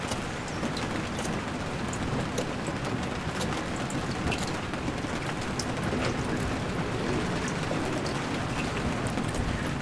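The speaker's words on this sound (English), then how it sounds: "rain blew in" Steady rain during a stormy day on a sailing trip along the west coast of Canada, a dense, continuous hiss with scattered sharp drop ticks throughout and no voices.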